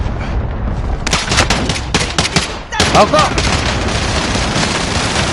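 Rapid bursts of automatic gunfire from a PS4 shooter game crackle loudly and continuously, with short pauses between volleys, while players talk over the shooting.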